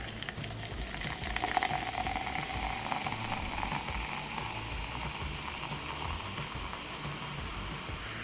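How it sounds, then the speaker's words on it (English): Continuous fizzy hissing and crackling of Canada Dry ginger ale being poured from a can and bubbling, steady throughout with no talking. "Take your can, your ginger ale, and pour it inside."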